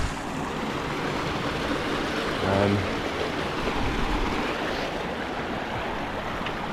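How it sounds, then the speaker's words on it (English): Small river in the Scottish Highlands, the Allt Coire Dubh crossed at about 400 m elevation, giving a steady broadband rush of flowing water close by, continuous and unbroken, with faint wind and no talk. "Just going to cross this small river."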